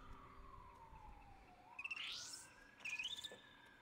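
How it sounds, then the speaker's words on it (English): An ambulance siren from the video game Spore wails with a slow falling-then-rising sweep. Quick chirping bursts layer over it twice, and it sounds moderately close, with no talk. "That ambulance that you hear is for Long Steve and his little man friend."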